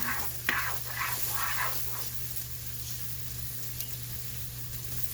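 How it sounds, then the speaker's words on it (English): Simple chili in a pot hisses with a faint, steady sizzle while a few soft stirring strokes scrape early on, then fade into a quiet, continuous simmering hiss. "Give it a little stir."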